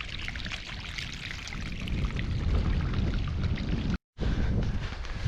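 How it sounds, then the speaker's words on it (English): Fresh water off the land runs out of a field drain in wild Scottish country, a steady close rushing and splashing flow with a brief break near the end. "here's another one of these field drains running in here with the fresh Scottish water off the land"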